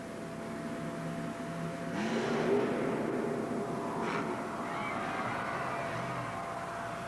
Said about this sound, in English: Oh, there you see the monster truck coming to the side. The 1988 Chevrolet coming over the other side.